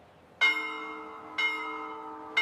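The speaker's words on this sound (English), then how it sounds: "The musical school bell is ringing." A musical school bell rings three times at even intervals, each a clear, ringing chime with a sharp start that slowly decays, heard alone and at moderate volume.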